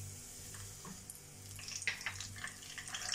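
Peanuts frying in oil for puliyotharai, a faint steady sizzle with scattered crackles and pops growing livelier toward the end, with no talking.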